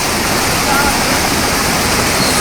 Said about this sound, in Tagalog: Grabe nga baha, guys, oh.